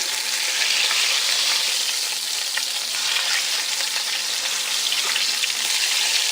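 Veal shanks for osso buco sear in a hot frying pan, a steady, loud, close sizzle running throughout with faint shifting crackles as the meat is turned, and no voices.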